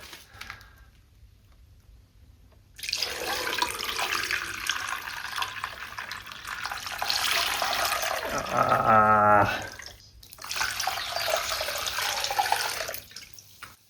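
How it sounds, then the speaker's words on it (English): Liquid siphoned from a Honda Civic through a piece of cloth: after a quiet start, a continuous trickling, splashing flow runs for most of the clip, with a brief gurgling burst partway through before the pour resumes. "I'm going to siphon this through a piece of cloth and then put it back in"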